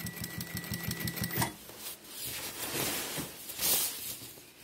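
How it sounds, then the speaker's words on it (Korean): Sewing machine stitching along the edge of a worn duck-down padded jacket collar, a rapid regular mechanical clatter in a steady burst for the first second and a half, followed by softer handling and rustling of fabric. "이렇게 놓고 쭉 박음질을 해주면 돼요"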